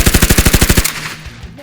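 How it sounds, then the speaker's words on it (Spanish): A rapid machine gun burst fired at point-blank range in an audio drama, a dozen loud, evenly spaced shots in quick rhythm, then cut off abruptly into a short fading echo. "Una ráfaga de balas los atravesó a quemarropa en un instante."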